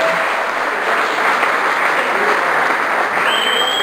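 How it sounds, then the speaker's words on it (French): An audience at a firefighters' 100th-anniversary reunion dinner in Amos applauds its fire crew, with dense, steady clapping close by that holds evenly throughout. "j'aimerais ça qu'on applaudisse toute notre gang de pompiers"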